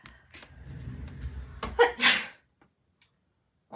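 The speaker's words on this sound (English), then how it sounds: "hang on, I'm gonna sneeze" A single loud sneeze bursts out after a brief inhaling buildup, followed by near silence and a small breath.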